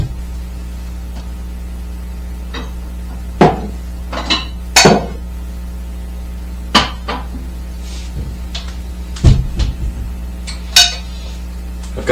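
Dishes and utensils clinking while stew is plated, several sharp separate clatters of metal and crockery spread out over a steady electrical hum, with no talking.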